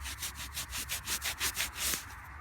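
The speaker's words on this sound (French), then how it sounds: "Frotte un peu sur le pantalon." A small metal-detecting find gets rubbed against trouser fabric, a quick run of rhythmic back-and-forth scrubbing strokes, soft and close, about a dozen in a couple of seconds.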